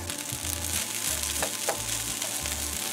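Rice hits a pan of hot ghee and garlic and crackles with a steady, close, bright sizzle, marked by a couple of brief stirring scrapes.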